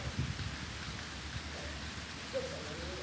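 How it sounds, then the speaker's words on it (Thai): Soft, steady rain patters in the background, a faint wash of drops with a low rumble underneath and no clear voices. "ตอนนี้ฝนตกด้วยนะคะ"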